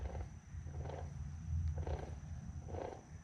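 A 2012 Subaru Forester transmission turns over in neutral with a low, gravelly grinding rumble, swelling in a steady pulse about once a second, heard up close with no talking.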